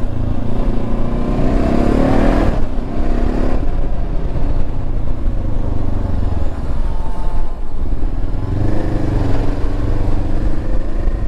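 An FKM ARY 500 motorcycle with a six-speed manual gearbox and wet multiplate slipper clutch drones steadily while riding, engine rising and falling in pitch under heavy wind rush, loud and continuous.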